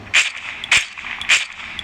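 Three sharp synthetic video game gunshots fired at a steady pace, each a bright crack with a short tail, with quiet game ambience between them.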